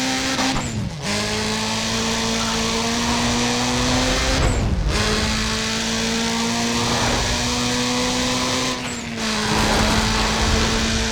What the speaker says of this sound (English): Subaru WRX-8 engine is the sound that replaced Honda Prelude A.